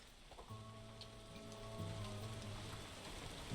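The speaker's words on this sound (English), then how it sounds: "Seems we're in for a rainy night." Steady rainfall at night in the video game Tavern Keeper, a soft continuous patter of drops on surfaces, faint and even throughout, with a low sustained musical tone running beneath.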